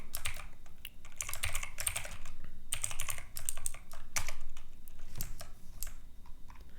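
Fingers typing C++ code on a computer keyboard, with steady, fast clattering keystrokes in uneven bursts and brief pauses, close and clear with no talking.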